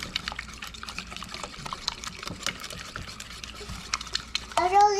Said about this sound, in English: So I've got my 3 eggs, and now I'm going to whisk them up in here.